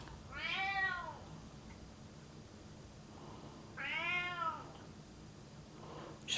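A cat meows indoors in a kitchen, two drawn-out harmonic meows about three seconds apart, fairly close and clear over a quiet low hum.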